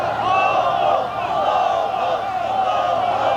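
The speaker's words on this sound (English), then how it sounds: "the crowd chanted his name" Crowd chanting Milosevic's name as his body returns to Belgrade, a dense, steady wall of many voices shouting in unison, loud and close throughout.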